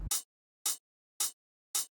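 Four crisp hi-hat hits from a percussion loop, evenly spaced about half a second apart, bright and close with short decays, playing alone with silence between strikes.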